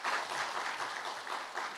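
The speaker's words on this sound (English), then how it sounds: "Clap it up." Audience applause at a lecture series event, a brief, moderately soft wash of many hands clapping throughout, without talk.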